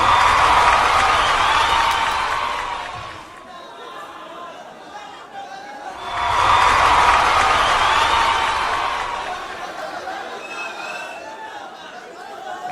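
An audience at a live comedy show in Japan breaks into loud applause mixed with crowd chatter. The clapping swells, eases off for a few seconds, then surges again before fading under the murmur.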